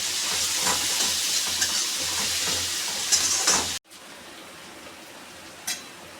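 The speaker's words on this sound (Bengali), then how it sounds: "এটাকে একটু ভাজা ভাজা করতে হবে।" Crushed onion, garlic, ginger and black pepper fry in a hot pan, a steady sizzle with faint stirring scrapes that abruptly drops to a quieter simmer partway through, with no voices.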